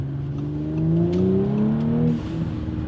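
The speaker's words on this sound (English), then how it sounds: "the exhaust definitely pops more" Audi S4 B9 with a Unitronic intake and exhaust revs up, its engine note climbing in a smooth rising tone that then eases off, heard close and alone; no distinct exhaust pops stand out.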